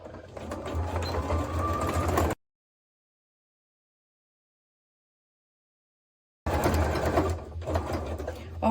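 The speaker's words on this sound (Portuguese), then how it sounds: "eu vou começar a costurar aqui com o retrocesso" A sewing machine stitches terry-cloth kitchen fabric with a short backstitch at the start, running steadily and close for about two seconds, falling silent, then whirring again near the end.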